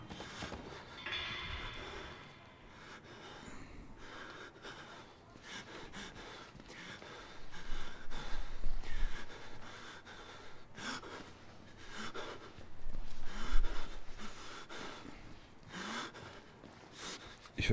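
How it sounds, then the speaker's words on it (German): A character in the horror game Outlast snorts and breathes heavily, the rough, rhythmic huffs and gasps rising and falling across the stretch and growing louder in bursts, with faint ambient sound behind. "wenn der Typ mal aufhören würde, so zu schnaufen"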